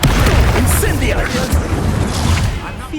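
An Incendio fire spell blasts in Hogwarts Legacy, a loud, close rumbling whoosh with booming bursts of flame layered over battle effects, a voice talking faintly beneath.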